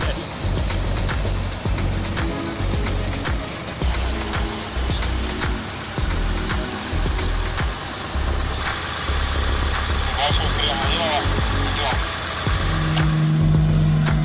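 Heavy Hino truck engine labors under an oversized transformer load, a continuous loud low rumble with slight surges, echoing in an enclosed space, steady throughout.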